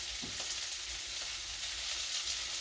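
Cornmeal-breaded shrimp fry in hot oil with a loud, steady hiss and crackle, and a faint stir or two under the continuous sizzle, with no voices.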